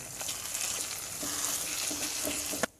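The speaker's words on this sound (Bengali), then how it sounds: "এবার আমি নেড়ে চেড়ে দিচ্ছি মিশিয়ে দেবো" Raw tamarind pickle mixture with panch phoron and mustard powder is stirred in a pan, a soft continuous sizzling hiss with faint scraping strokes, quiet and close, ending in a brief clatter.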